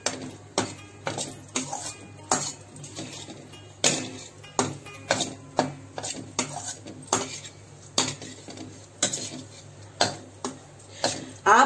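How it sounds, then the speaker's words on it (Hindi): Peanuts are stirred in a pan, a spoon scraping and clinking sharply against the metal in an irregular run of close knocks and taps, with no talking. "बस इसको हल्का सा ऐसे चलाएंगे मूंगफली को"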